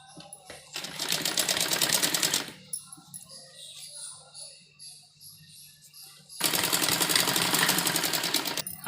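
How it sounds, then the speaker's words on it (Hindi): A sewing machine runs basting stitches along folded suit fabric in two long, steady bursts of rapid stitching, separated by a quieter pause of handling noise. "कच्ची सिलाई हम इसके ऊपर लगाएंगे"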